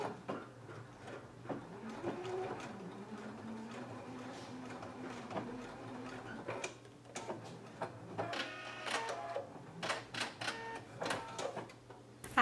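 Home sewing machine running in short stitching bursts to tack down a garment facing, a steady motor hum with mechanical ticking, close and moderately loud, followed by handling clicks and rustles of fabric.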